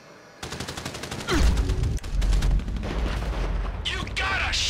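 Heavy gunfire erupts in Grand Theft Auto 5 as rapid automatic bursts start abruptly and continue steadily, joined by deep booming impacts, loud and close, with voices shouting faintly underneath.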